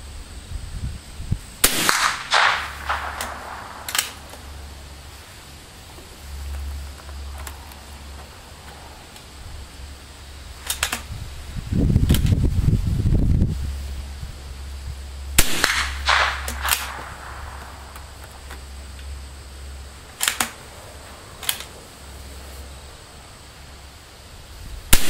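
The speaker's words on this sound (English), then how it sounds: "you can fire the rifle just fine" An old .22 long rifle fires at an outdoor range: a handful of sharp, spaced cracks, some close together and others alone, each followed by quiet gaps and faint background noise.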